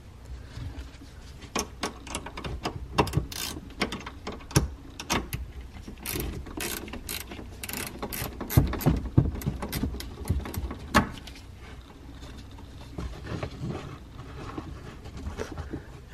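A ratchet loosening the negative battery cable nut on a 2011-2013 Hyundai Sonata Hybrid, rapid repeated metallic clicking in bursts, close and clear, continuing steadily before easing off toward the end, with no talk.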